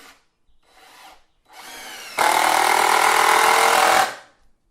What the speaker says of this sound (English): So she's just got to put 4 screws in there.